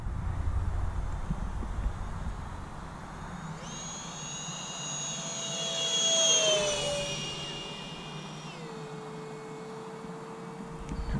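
A Freewing Stinger 64 RC jet plane flies past at high throttle, its ducted-fan whine rising and sweeping in pitch as it passes, swelling toward the middle and easing off, over steady background noise.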